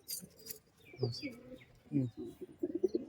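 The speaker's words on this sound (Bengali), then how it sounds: "এগুলো এক জোড়া ম্যাট্রাস পায়রা" A pair of giribaz Matras pigeons coo in low, throaty bursts close by, three or four rolling calls with faint chirps and rustling between them.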